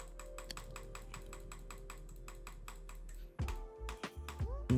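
Rapid mouse or keyboard clicking on a computer during a Minecraft brewing attempt, steady rhythmic taps over a constant hum, breaking into a few scattered louder clicks near the end.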